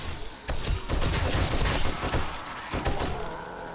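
Rapid bursts of gunfire from a zombie survival video game during a horde night base defence, dense crackling shots in quick succession with short pauses, loud and close.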